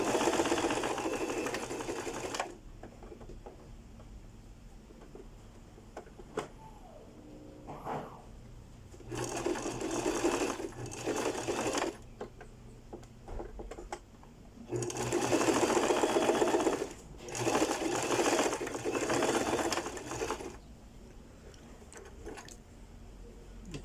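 Sewing machine stitching the seams of a fabric blouse in a tailoring workshop, running in several steady whirring bursts of a few seconds each, separated by short pauses, close and clear.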